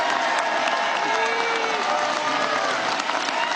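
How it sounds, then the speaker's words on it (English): A crowd in the chamber of the US Congress cheers and applauds during a vote, a loud, dense, unbroken wash of clapping and voices lasting the whole moment. "Oh, they're cheering for Aguilar."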